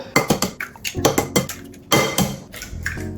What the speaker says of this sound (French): Il faut mélanger jusqu'à ce que ça blanchisse